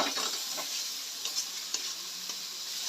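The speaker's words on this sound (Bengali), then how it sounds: "এই যে জিরে বাটা দিয়ে দেওয়া হলো মাংসতে। এবার মাংসটা কষানো হচ্ছে," Mutton with cumin paste is sautéed in a pan, giving a close, steady sizzle broken by a few scraping clicks as it is stirred, with no voices.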